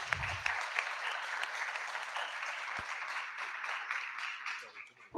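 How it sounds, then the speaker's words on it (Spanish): An audience applauds at a book presentation in Argentina, steady dense clapping lasting several seconds, fairly close, with a voice briefly heard over it. "Un aplauso"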